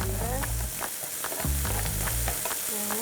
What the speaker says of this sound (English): that sizzle's coming through now very nicely. Make sure that you keep stirring it, keep coating it in the oil